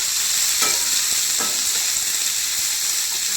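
Okra sizzling and frying in a kadhai, a steady bright hiss throughout with a couple of faint clinks of stirring, no talking.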